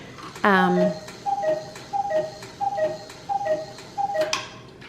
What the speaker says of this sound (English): I wanted to let that cuckoo clock run